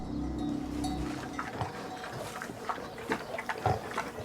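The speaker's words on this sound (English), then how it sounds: "Pigs and cows, sheep and goats, domestic animals." Pigs grunting and snuffling among domestic farm animals, a close, busy jumble of short irregular grunts and squeals over a low rumbling background.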